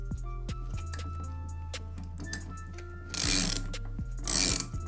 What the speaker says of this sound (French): j'ai plus qu'à prendre mon cliquet et à serrer la vis centrale pour extraire le carter